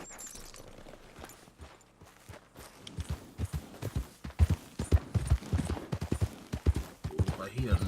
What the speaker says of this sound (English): hop on this young horse real quick